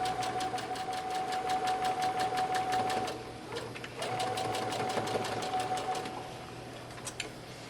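A sewing machine stitches the top edge of a pillowcase dress in two steady rapid bursts, separated by a short pause, with a faint hum beneath and a couple of light clicks near the end.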